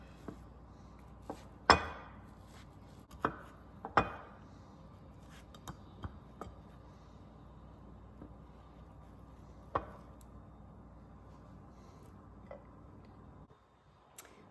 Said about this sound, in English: I'm literally just cutting through it with this spatula.